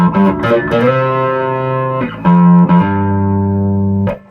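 Bass guitar played through a high-gain Nauticlon overdrive pedal: sustained, harmonically rich distorted notes ring out in a few long held phrases with brief pauses between, loud and alone.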